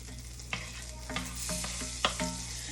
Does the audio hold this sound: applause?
no